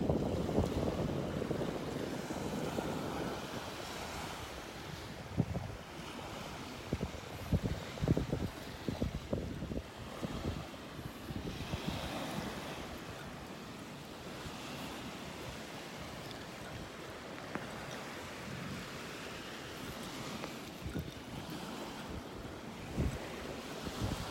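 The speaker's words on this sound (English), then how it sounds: "that water's moving fast out of the pass this morning" Fast water pours out of a pass on a North Naples, Florida beach, with waves washing and surging close by under heavy gusts of wind buffeting the microphone.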